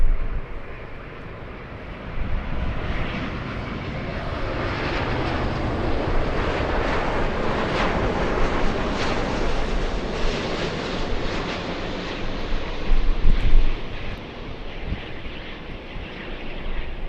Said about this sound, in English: Delta 8 flying in from Haneda. This one landing 1 hour late.